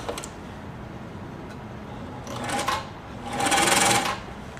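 A Decora 950 B sewing machine motor with the bobbin winder engaged whirs in two short bursts, the second longer and louder, between quieter pauses with faint ticking.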